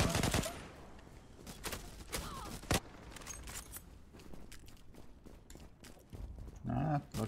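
A shotgun fires in the online shooter Zula: sharp, loud blasts strike in irregular succession among other gunfire and game noise, with voices talking over them.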